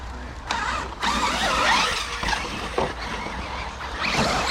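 An RC bashing truck's worn differential grinds and rattles as the electric drivetrain whines in rising and falling sweeps, with scattered clicks and knocks from rough running close by.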